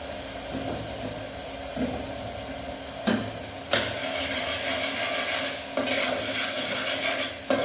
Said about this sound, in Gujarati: આ તેલમાં સાતરવા દેવાની છે